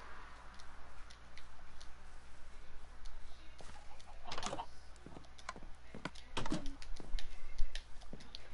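Chicken clucking in the Minecraft video game, a few short, faint clucks over a quiet background hiss mixed with light clicking, like keyboard taps.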